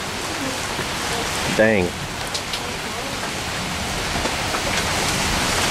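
Steady rain pours onto leafy tree limbs on a Saturday morning in Memphis in May, a dense, even hiss throughout, with a brief spoken word near the start.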